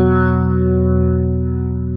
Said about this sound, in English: and with the Leslie, it sounds fantastic.